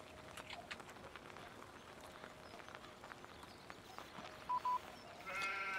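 Sheep in Farming Simulator 17 bleat faintly over a busy game soundscape, a few short calls scattered through steady background noise, with no one talking.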